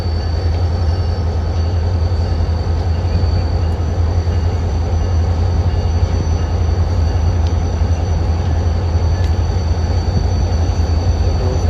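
A passenger train arriving at a railway platform, heavy steady rumble of wheels and carriages throughout, loud and close, with faint high squeals over the continuous roar.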